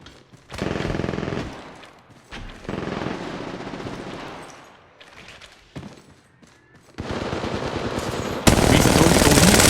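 In the video game Apex Legends Mobile, sustained machine gun fire comes in loud, dense bursts separated by short pauses, and an even harsher, louder burst closes the sequence.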